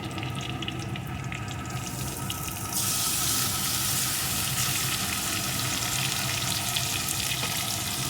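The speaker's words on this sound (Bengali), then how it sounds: "এখন যে মশলাটা আমি পেস্ট করে রেখেছিলাম ওই মশলাটা এর ভিতরে দিয়ে দেবো" Ground spice paste of garlic, ginger, green chilli and tomato goes into a pan of frying onions, bursting from a low sizzle into a louder, brighter hiss partway through that stays strong to the end.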